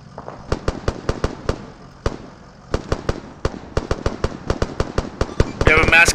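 Rapid bursts of ArmA 3 gunfire crack out in quick rhythmic strings, loud and close, with short pauses between volleys and a rougher wash of noise at the very end.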